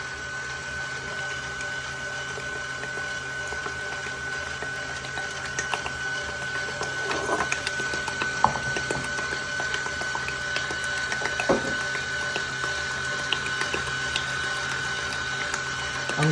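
A KitchenAid stand mixer runs steadily, beating eggs into a pastitsio filling, with a constant motor whine and occasional light knocks from the bowl.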